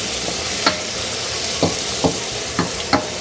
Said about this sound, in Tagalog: ilagay nyo na yung chicken thigh. Lutuin nyo lang to hanggang sa mag-brown siya.